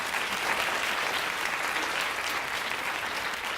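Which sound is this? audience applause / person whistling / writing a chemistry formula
audience applause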